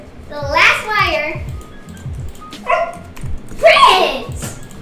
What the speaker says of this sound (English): Our dog has come to visit us